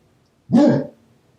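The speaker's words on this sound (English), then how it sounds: "Jack is barking at God" A single deep bark from a dog rings out once, fairly close, then silence.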